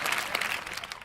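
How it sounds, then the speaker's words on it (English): A livestream audience gives a round of applause for a viewer, a steady wash of clapping filling the whole short moment and fading slightly at the end. "round of applause for Butte Andy."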